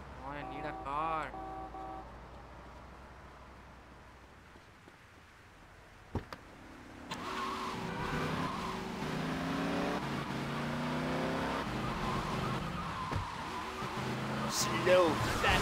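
Car engine starting up and revving in GTA Vice City, a steady motor drone with shifting pitch that swells after a brief quiet, mixed with game sound effects.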